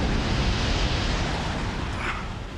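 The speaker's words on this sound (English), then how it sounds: "the avalanche is funneled down the fire break" A snow avalanche funneling down a mountain fire break, a dense, continuous low roar close by that holds steady, then slowly eases.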